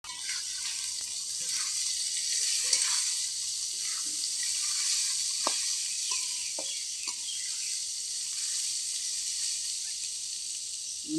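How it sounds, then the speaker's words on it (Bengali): Lentils sizzle in hot oil while frying to a red-brown for homemade vegetarian chanachur, producing a continuous soft hiss and crackle with a few sharp pops and stirring clicks, close by and steady. "লাল লাল করে ভাজবো।"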